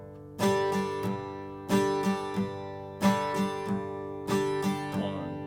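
Acoustic guitar strummed in a repeating rhythmic pattern, four bright chord bursts each followed by lighter upstrokes, clear and close.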